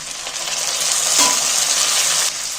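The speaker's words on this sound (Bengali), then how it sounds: "এইবার আমি এখানে একটা টমেটো ছোটো ছোটো করে কেটে রেখেছি টমেটো কাটাগুলো তুলে দিচ্ছি" Small chopped tomato pieces are tipped into a hot frying pan. A loud, steady sizzle fills the whole moment, with a brief clink in the middle, then eases slightly near the end. No speech.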